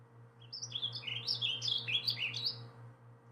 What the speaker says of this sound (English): So this is a warbling vireo.